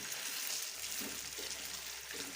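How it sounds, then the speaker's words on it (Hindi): Mutton pieces fry in a pan, giving a steady, faint sizzling hiss that carries on without a break. "गोश्त को हमने अच्छी तरह फ्राई करना है।"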